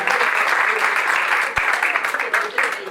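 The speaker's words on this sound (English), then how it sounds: "Round of applause to John." Wedding guests give a volunteer a round of applause, a dense patter of many hands clapping close by, with a sharp thump partway through and the clapping fading slightly toward the end.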